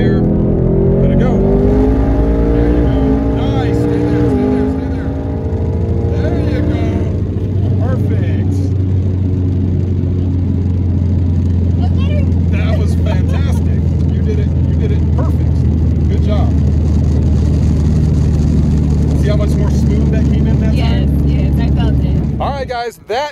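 A 1000+hp twin turbo Mustang accelerates hard under boost, its loud engine roar climbing through gears with shifts and a long sustained pull, heard from inside the car.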